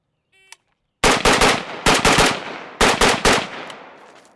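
Rifle fire while test-shooting a 1P87 Russian optic: three loud, close bursts of rapid shots, each a few quick cracks with ringing decay, preceded by a small click.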